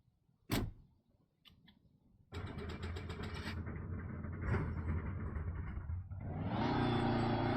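A car in the DayZ video game starts up: a sharp click and brief knocks, then the engine catches into a steady rumbling idle that swells louder toward the end, with no voices.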